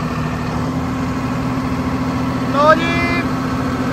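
A Swaraj 969 CRDi tractor diesel engine runs in power mode at about 1700 rpm with a steady, droning idle-like hum. A brief rising whine is heard near the end, and someone speaks briefly.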